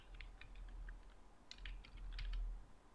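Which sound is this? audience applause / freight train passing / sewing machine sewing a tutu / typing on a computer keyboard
typing on a computer keyboard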